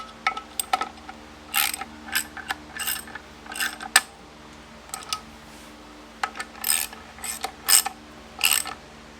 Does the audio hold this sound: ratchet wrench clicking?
yes